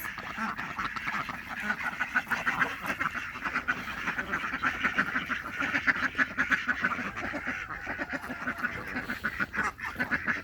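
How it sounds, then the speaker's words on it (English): Ducks quack continuously in a lively, overlapping chorus, fairly close and steady, with no one talking. "all of the other black and white ducks went that way"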